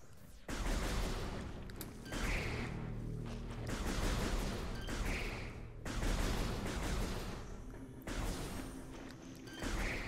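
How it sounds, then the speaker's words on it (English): Explosions from a morph-ball bomb in Metroid Prime Remastered, loud bursts recurring about every two seconds over steady game background sound, with no voices. "We can get through this by placing a bomb."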